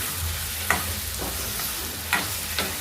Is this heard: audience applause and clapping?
no